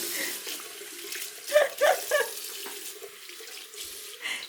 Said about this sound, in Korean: 빨리 손 씻어.